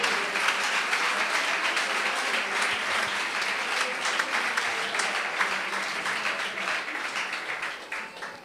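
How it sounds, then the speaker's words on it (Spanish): A church congregation claps loudly and continuously, a thick wash of many hands at even intensity that thins slightly near the end. "¿Alguien puede aplaudirle al Rey de Reyes?"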